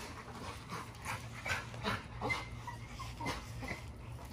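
An XL American Bully dog pants and whimpers nearby in short, uneven breaths and soft whines during outdoor yard work, fairly faint with no speech over it.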